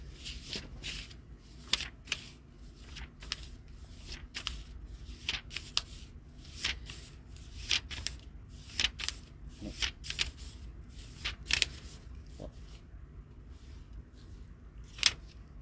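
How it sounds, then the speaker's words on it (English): A deck of playing cards is shuffled over and over, each riffle a soft, close burst of flicking paper, with short pauses between bursts and no voices. "You tell me when to stop shuffling"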